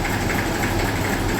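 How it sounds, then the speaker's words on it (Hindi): A tractor engine idles just after starting, loud and close, with a steady low rhythmic knocking throbbing throughout. "ये देखें कितना बेहतरीन स्टार्टिंग है ट्रैक्टर।"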